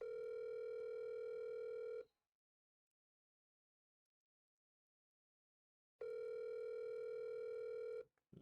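Telephone dial tone on a call, a steady buzzing tone that sounds for about two seconds, cuts to silence, then returns for another two seconds before breaking off. No one talks over it.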